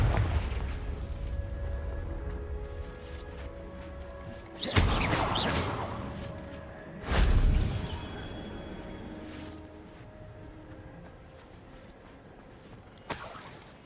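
Confringo blasting spells explode twice in Hogwarts Legacy, each a loud, sudden burst with a rumbling tail, over quiet ambient game music, with a further sharp blast at the very end.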